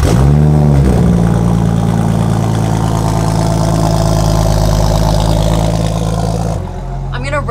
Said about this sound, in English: I'm gonna rev a concept car.